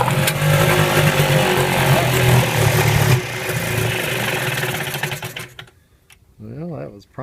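Eska 7.5 outboard motor, stored in a barn for five years, fires up and runs with a loud, steady, rattling drone close by, then cuts out, followed by a voice speaking.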